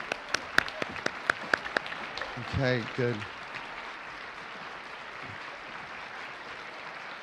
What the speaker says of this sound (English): Please stand up so that we may also give you a round of applause